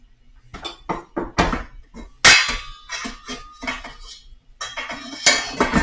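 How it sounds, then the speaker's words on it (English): A knife is scraped and tapped against a metal pan while vegetables such as carrots and celery are prepared, producing a series of close, sharp metallic clinks and scrapes in irregular bursts. "Cleaning that knife off with the pan, it's pretty clever"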